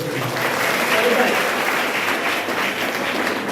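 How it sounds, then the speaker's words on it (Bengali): Sustained applause from a school crowd at a quiz-show qualifying round in a Bolpur high school, a steady wash of clapping across the whole span with voices mixed in. "জোরে হাততালি হবে"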